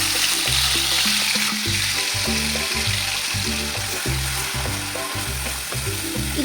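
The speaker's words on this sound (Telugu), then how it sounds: "ఆయిల్ హీట్ అయింది కాబట్టి ఇప్పుడు మనం మసాలా వేసుకుందాం." Ground masala sizzles loudly in hot oil in a pan for Godavari-style fish pulusu, a dense close frying hiss with a bubbling, crackling texture that holds steady throughout. There is no speech.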